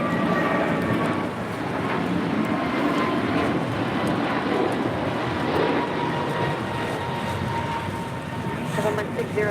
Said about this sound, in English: That was American 1959 taking off to Miami on an A321 Neo.